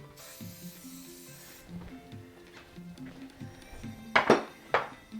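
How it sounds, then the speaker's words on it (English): Cooking spray hisses in two or three short bursts onto an 8x8 baking dish held over a kitchen sink, near and fairly loud, following quieter background sounds. "I'm just going to give that a spray over the sink so I don't slip all over the"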